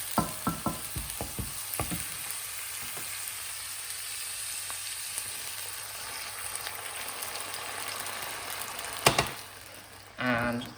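Vodka is poured into a Bloody Mary sauce base that has been cooking for about five minutes in a pan, giving a steady sizzle and frying hiss with a few clanks and knocks early on and near the end.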